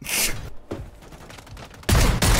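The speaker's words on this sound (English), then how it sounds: "Imagine missing that many shots when he's right there and you have dual shotguns." Dual shotguns blasting in the video game Modern Warfare 3: a heavy burst opens, then a quieter stretch of clatter, and two loud booming shots close it out, all near and punchy.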